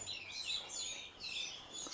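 A ringed competition songbird chirps in a quick series of bright, high tweets, clear and fairly close against a quiet background.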